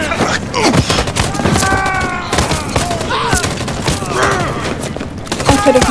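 Gunfire in the game Detroit: Become Human: a rapid run of sharp, loud shots and thuds, mixed with voices and groans over busy game sound.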